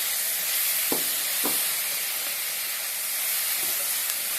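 Vegetables sizzling in a pan right after salt goes in, a dense steady hiss and crackle at close range, with a few soft knocks from stirring.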